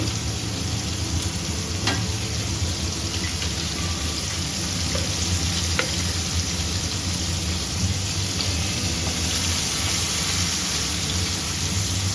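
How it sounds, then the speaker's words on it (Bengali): Two chopped onions fry in oil with a dense, steady sizzle like light rain, broken by a few faint stirring taps, close and continuous. "পেঁয়াজটা ভেজে নেবো"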